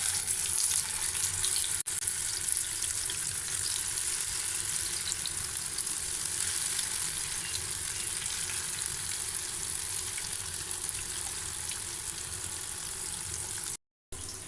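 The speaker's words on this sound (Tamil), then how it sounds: "நம்ம எடுத்து வச்சுருக்க ஃபிஷ் இதில் சேர்த்துடலாம்." King fish fries in hot oil in a pan, giving a steady, close hiss and fine crackle that runs unbroken, then cuts out briefly near the end.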